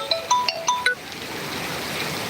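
Phone ringtone in rainy Sangameshwar, Ratnagiri, Konkan: a short run of bright chiming tones at the start, then steady rain hiss continues alone.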